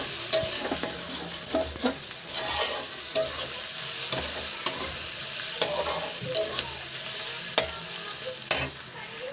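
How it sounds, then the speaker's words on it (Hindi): Cabbage curry frying on high flame in a pan, a loud continuous crackling sizzle punctuated by repeated scraping stirs of a spoon, with no voices. "इसके साथ 1 मिनट और फ्राई करना है हाई फ्लेम पे ही।"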